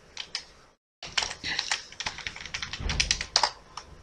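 Rapid, uneven keyboard typing of data entry into medicine wholesale POS software, with clustered clicks and a brief silent gap near the start, close and fairly loud, with no talk.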